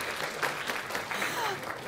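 Steady applause from an audience fills the whole stretch, even and sustained without a break.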